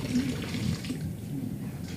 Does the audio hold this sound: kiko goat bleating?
no